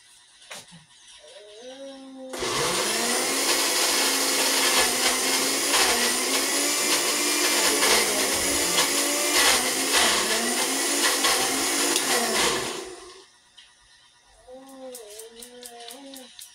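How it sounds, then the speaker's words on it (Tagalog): An electric blender whirs loudly for about ten seconds blending baby food, then winds down; short high-pitched vocal cries are heard before and after it. "Mag-blender na ako ng pagkaon kang apo ko."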